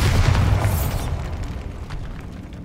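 A Bombarda blasting spell detonating in Hogwarts Legacy, one loud, deep boom with a rumbling tail that decays over a couple of seconds.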